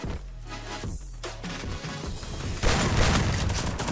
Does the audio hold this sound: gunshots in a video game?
yes